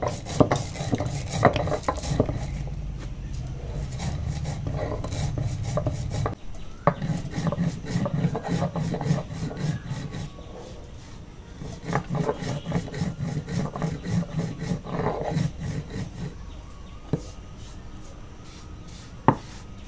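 Cooled whole spices are ground for a mango dish, a rough repeated grinding and rubbing that comes in long bursts with brief pauses, close and moderately loud, with a few sharp knocks and no talking.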